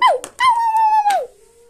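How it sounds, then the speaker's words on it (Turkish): A dog gives a short yelp, then a long, sustained howl close by that fades into a faint whine. "bu köpek bana saldırıyor"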